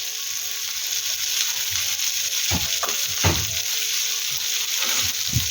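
Bangda (mackerel) fish fries on a tawa with a steady, close sizzle, punctuated by a few scraping, clicking spatula or utensil knocks.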